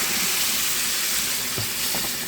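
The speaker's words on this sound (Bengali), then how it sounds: "এখন কিন্তু আমি ফুটানো গরম জলটা দিয়ে দিচ্ছি" Boiled hot water poured into a pan of frying fish curry with koi, puti and rohu fish and tomato, giving a steady, close, loud sizzling hiss with a few brief splashy bursts near the end and no talking.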